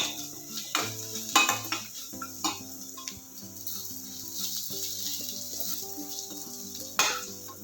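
Onion, green chili, garlic and cumin sizzle in a tempering pan for bhindi gojju, with a steady frying hiss broken by several loud clinks and scrapes of a stirring spoon against the pot, and no talk.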